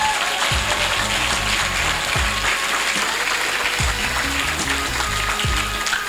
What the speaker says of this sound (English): I think you will do a louder round of applause for him.